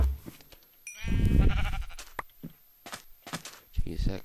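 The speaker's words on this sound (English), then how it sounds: "Jeez, that cow was angry." An angry cow in the Minecraft video game gives a loud, drawn-out bleating moo near the start, followed by scattered short thumps and clicks while a player talks over it.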